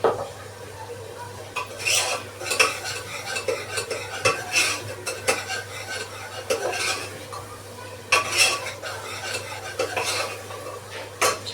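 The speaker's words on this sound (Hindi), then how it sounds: "अब मैंने गैस फिर से ऑन करके मसाला मेरा भुन रहा है" Onion masala frying in a pan on a gas stove while a utensil stirs and clinks against the metal, a busy close sizzle with irregular scraping strokes and no voices.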